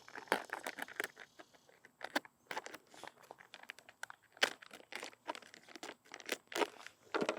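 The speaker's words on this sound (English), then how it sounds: "simply cut an X in that window" A blade cutting an X into the plastic window of a mushroom grow kit bag, close, quiet crinkly snips and rustles in irregular bursts.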